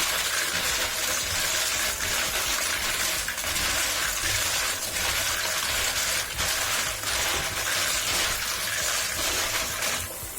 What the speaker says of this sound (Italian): e li sciacquate.